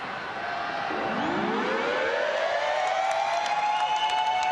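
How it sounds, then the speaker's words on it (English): A loud, sustained stadium siren at a rugby league match wails and rises in pitch, droning steadily over faint crowd noise in a large open space. "And as the siren goes, he misses with his second."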